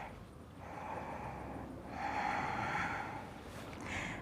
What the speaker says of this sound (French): on synchronise bien la respiration avec le mouvement